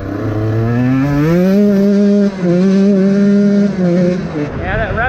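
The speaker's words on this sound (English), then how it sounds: "Yeah, that revs out nice and clean now, but still get that bog." A KTM 150 XCW two-stroke dirt bike with a Lectron carburetor revs loudly up and down close by, rising cleanly and holding high with a brief dip, then bogging and dropping back near the end.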